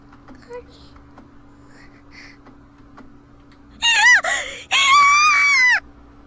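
A man's anguished scream in the Steins;Gate video game, two loud drawn-out wails rising and wavering near the end after a quiet stretch of faint background sounds.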